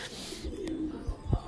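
Pigeons of the Thai Titan meat breed at a pigeon farm give a low, soft coo that hums briefly mid-clip, with a few muffled thumps and rustles around it; the sound is close but quiet, with no talk over it.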